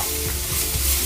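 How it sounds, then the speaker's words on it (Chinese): Garlic tipped into a clay pot of hot oil with the heat switched off, giving a steady close sizzle and fry with soft stirring scrapes throughout, no voices. "接下来我们倒入一点油啊，把这个蒜倒进去。"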